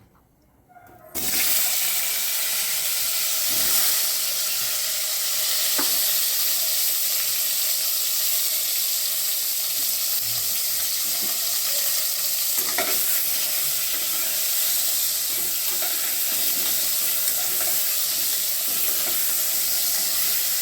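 Cut pieces of pointed gourd (potol) hit a hot pan and fry with a loud, steady sizzle that holds evenly for about twenty seconds, close by and uninterrupted, with occasional stirring scrapes.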